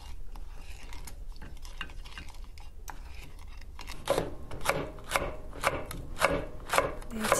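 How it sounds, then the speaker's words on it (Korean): A knife slicing chili peppers on a cutting board in a home kitchen, during preparation of an acorn jelly dish, gives a run of crisp, evenly spaced chopping taps. The taps are close and moderately loud, after a quieter stretch of soft handling noise. "집에 있는 고추도 썰어주고요"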